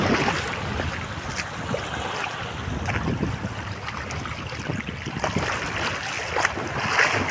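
Steady wind and rolling sea waves on the shore of Saint Martin's Island, a continuous broadband rush with gusty microphone buffeting and no voices.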